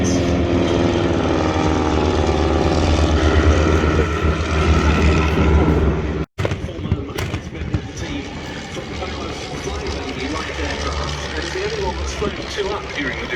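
A World War I German warplane flies a display at a Duxford air show, its propeller engine a loud, steady drone with a rich harmonic hum. It cuts out briefly halfway through and then returns rougher and more broadband, with a voice faintly present.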